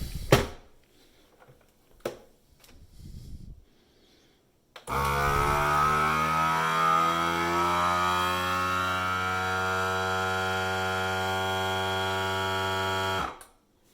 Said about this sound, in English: So I wondered if we can use a Ziploc and do the vacuum seal and the whole process.